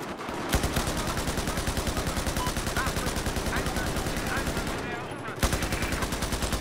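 Sustained automatic rifle fire rips through a Battlefield 4 conquest match, loud and close, a steady rhythmic burst that briefly cuts out near the end before resuming.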